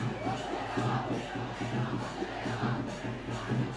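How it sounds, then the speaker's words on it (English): Schoolboy crowd at a Trinity College versus St. Anthony's College schools rugby league match, a massed roar of chanting and cheering rising and falling in rhythmic surges from below. "we can already hear the crowds, the schoolboy crowds just underneath us, very much pumped"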